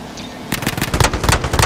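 Rapid automatic gunfire in the video game Call of Duty, a loud close burst of rattling shots that starts abruptly and continues steadily to the end.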